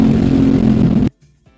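A Lo206 kart engine drones loud and steady on track at AMP, a close buzzing tone that holds for about a second before cutting off sharply into near silence.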